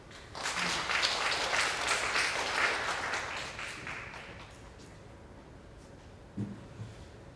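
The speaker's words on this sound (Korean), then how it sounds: "큰 박수로 모시겠습니다" Audience applause at an education policy lecture in South Chungcheong, a burst of clapping from a seated crowd that swells, holds for about four seconds, then fades away into a quiet room.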